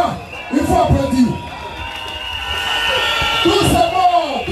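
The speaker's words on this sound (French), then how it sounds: "Il faut applaudir." Crowd at a political rally meeting in Koumassi, with bursts of clapping and cheering that swell, ease off and rise again under a loud voice talking over them.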